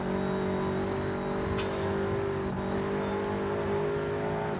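A sports car pulls hard along a racing circuit, its engine droning steadily as it accelerates with a brief higher-pitched burst partway through, loud and close with no talking.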